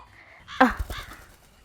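A crow caws twice in quick succession, close and fairly loud, with a short harsh first call followed by a fainter second one against a quiet background.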